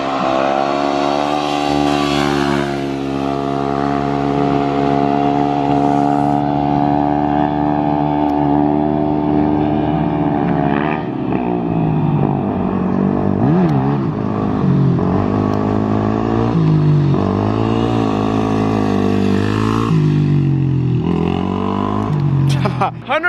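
A Yamaha WR supermoto motorcycle revs loudly and continuously nearby during wheelie riding, the engine note rising and falling through sustained high revs.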